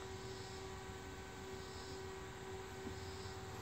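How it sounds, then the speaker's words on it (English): Stick welding with 7018 rods on a steel sway bar ball mount for camper sway control, a steady, loud, continuous crackling buzz with an even hum and no pauses or talking. "Now let's go ahead and make our first top weld."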